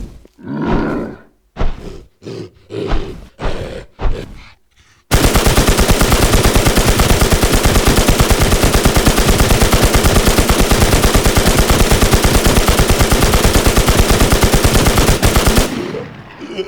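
Sustained loud automatic fire from a PKM machine gun and SMG aimed at a boss in the game Warz Asia, a dense unbroken burst lasting about ten seconds after a few short grunting vocal bursts.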